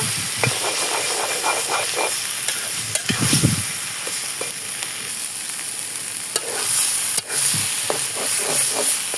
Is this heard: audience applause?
no